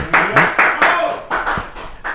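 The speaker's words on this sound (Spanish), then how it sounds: "el doctor Jorge Rolón Luna, a quien recibimos con un fuerte aplauso." Brief clapping from a TV studio audience welcoming a guest on a Paraguayan talk show: a short run of evenly spaced, close, fairly loud handclaps that fade toward the end.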